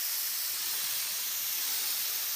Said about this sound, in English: So let me see now if I can spray some smoke.